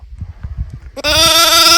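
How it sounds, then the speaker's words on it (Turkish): A lamb left alone and nearly smothered by a puppy lying on it lets out one loud, sustained bleat close to the microphone after a second of low rustling. "Kuzunun anca sesi çıkıyor."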